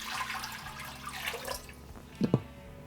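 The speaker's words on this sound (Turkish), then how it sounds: "Su ekliyorum." Water is poured into a pot holding finely grated grapefruit, orange and lemon peel: a faint, soft running trickle, then two quick close drips or splashes near the end.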